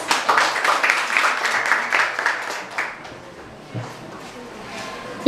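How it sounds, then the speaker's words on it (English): Audience clapping at a debate, a burst of scattered hand claps that is strongest at first and then thins out, with a few lone claps and faint room noise toward the end. "A round of applause, please."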